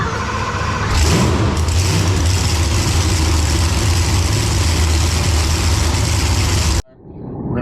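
A Holley EFI supercharged drag racing engine, a blower motor of about 3000 hp, runs steadily and loudly with a deep low rumble and broad roar, then cuts off abruptly near the end.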